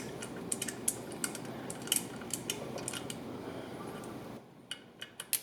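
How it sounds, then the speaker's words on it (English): Metal clicks and light ratcheting taps as pump bolts on a General Pump 66 Series are tightened with a 6mm hex key, a run of small sharp ticks over steady background hiss, then a few isolated clicks in near silence. "Tighten the bolts using a 6mm hex."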